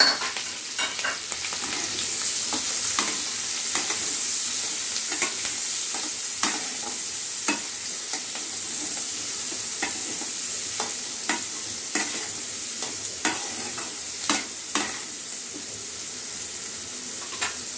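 Chopped capsicum and onion stir-fry in a pan for Indo-Chinese mixed noodles, a steady close sizzle broken by repeated sharp scrapes and clacks of the stirring spoon throughout.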